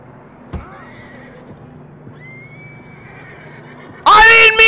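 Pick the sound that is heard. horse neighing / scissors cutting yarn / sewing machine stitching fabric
horse neighing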